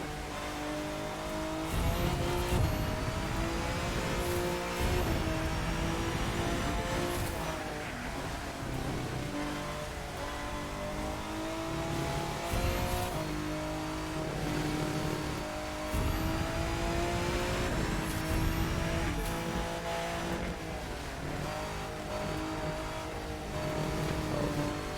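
A car in The Crew 2 racing game drives steadily with a loud, continuous engine note that rises and falls through gear shifts and revs, with occasional tire squeal and no talk.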